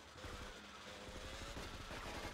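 Rapid bursts of gunfire from the video game GTA Vice City rattle in dense, repeated volleys across the whole short stretch, fairly loud with no talking.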